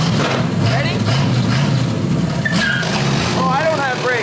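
A Ford 351 V8 car engine runs loud and steady close by, a continuous rumble filling the whole stretch while people talk over it.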